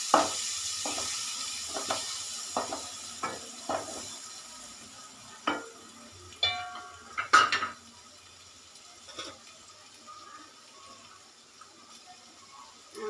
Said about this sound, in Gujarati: ડુંગળી એડ કરીશું ટામેટા એડ કરીશું બધો મસાલો મિક્સ કરી લઈશું